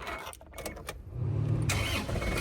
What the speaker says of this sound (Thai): ผมลองสตาร์ทให้ฟังเสียงเครื่องนะครับ สตาร์ทติดทีเดียว